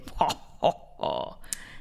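A person burps a few times in short, close, guttural bursts with brief pauses between them, with no talking.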